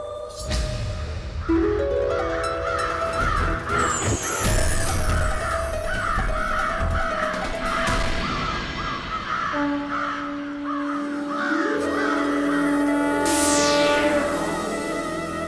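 Crow caws ring out in repeated bursts through a dense mix of music and other sounds, loud and close, with a rising swoosh near the end.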